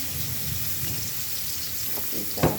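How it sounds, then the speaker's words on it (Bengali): Onions fry in a pan, giving a soft, steady sizzle close by, with a brief clatter near the end and no talking. "পেঁয়াজ দিয়ে দিলাম"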